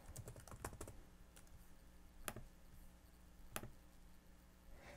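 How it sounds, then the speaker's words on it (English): Computer keyboard typing while entering a search term, a quiet run of quick key clicks at the start with a few sharper isolated taps later, no talk. "I'll just type in what I'm searching for"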